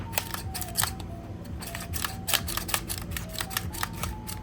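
A 2x2x3 shape-mod puzzle cube is turned rapidly in hand, giving a dense run of quiet plastic clicks and scratchy turns, close and steady with no talk.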